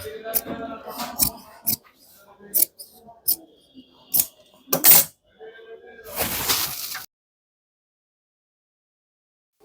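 Scissors snip through fabric beside the ham stitching on a pair of pants: a run of sharp, separate cuts followed by a longer rustling slice, then quiet.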